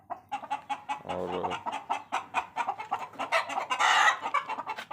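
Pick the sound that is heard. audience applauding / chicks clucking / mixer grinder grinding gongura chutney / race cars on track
chicks clucking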